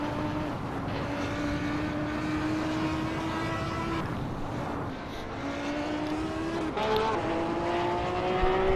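Audi race car at Nürburgring in the Assetto Corsa video game, engine droning steadily at high revs with rising pitch sweeps through gear changes, a continuous loud whine under commentary-level background.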